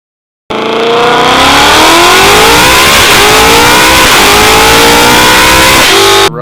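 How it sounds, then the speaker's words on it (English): A car in a Roblox mechanic game starts up and drives off, its engine revving loudly and continuously with rising and falling pitch as it accelerates, with no talk over it. "we're gonna start our car, bring it out of here, and we're gonna take it to sell it."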